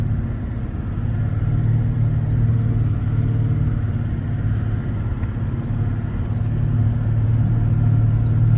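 Car engine rumbling as the vehicle jostles while climbing a steep stretch of the White Rim Trail, a continuous low, heavy drone heard from inside the cabin with slight bumps and shifts in level.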